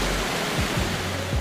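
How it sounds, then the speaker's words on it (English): Victoria Falls on the Zambezi River roars as a continuous broadband wash of falling water, loud and steady with a faint low thump or two underneath, no voices. "Victoria Falls is Africa's version of Niagara Falls."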